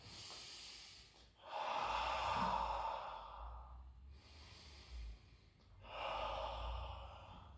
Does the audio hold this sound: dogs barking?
no